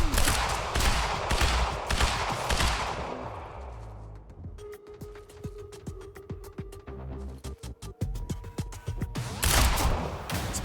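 Rapid gunfire from a turret-style weapon in Quantum Break, dense rattling bursts at the start and end with a steady humming tone and clicking shots in the middle, loud and without talk.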